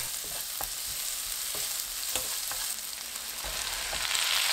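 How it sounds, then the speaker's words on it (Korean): Chili and garlic stir-frying in melted butter in a pan, a continuous bright sizzle punctuated by regular light scraping stirs, close and steady without speech. "고추 넣고 10초 볶습니다."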